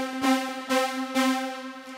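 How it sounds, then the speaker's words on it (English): Sustained trance-style synthesizer brass pad holding a rich harmonic chord, swelling in three soft repeated pulses over two seconds, played alone with no voices. "kind of a trance brass that sounds like this"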